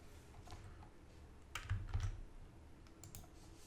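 Computer keyboard typing a short word into a text file, a handful of quiet close key clicks with a brief cluster of presses in the middle, no voices.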